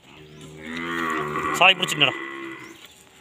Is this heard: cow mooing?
yes